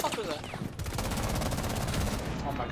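Rapid automatic gunfire rattles in dense bursts during a Rainbow Six Siege match, loud and close, with several shooters firing at once and a brief voice mixed in near the start.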